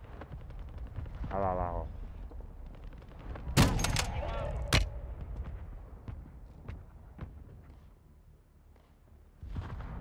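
Gunfire from Call of Duty Warzone 2.0 gameplay: a few sharp, loud gunshots crack out near the middle, with scattered fainter shots before and after, under someone talking in Portuguese.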